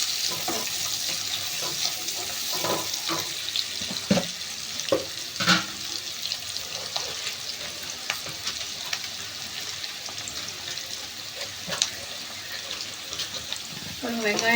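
Chopped onions fry in a pan for green chicken sherva, a steady sizzle broken by scattered sharp crackles and stirring clinks, heard close and alone without speech.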